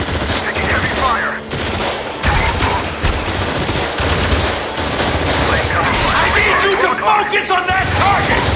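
Heavy automatic gunfire rattles nonstop in a Spec Ops: The Line firefight, loud bursts layered with dense shooting, while squadmates shout over the din.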